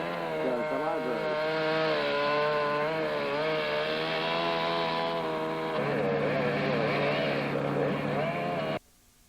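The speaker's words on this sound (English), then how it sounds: "cut the saw through the tree here, and he's notching it, and then he'll cut it from the other side" A chainsaw notches and cuts through a tree at a library construction site in Derry, holding a loud, steady buzz whose pitch wavers as the blade bites, then cutting off abruptly near the end.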